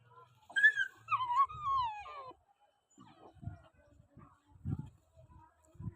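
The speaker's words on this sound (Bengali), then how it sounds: "কুকুরগুলো কি সুন্দর খেলছে" Playful dogs whimper with a long rising and falling whine, then give a few softer, scattered low grunts and sniffs, close and otherwise quiet.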